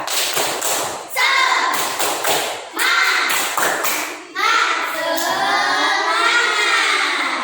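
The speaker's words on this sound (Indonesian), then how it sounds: "Tepuk semangat." Schoolchildren in a classroom do a rhythmic spirit clap, sharp bursts of hand claps in repeated patterns with short pauses between them, followed by children chanting and cheering loudly together.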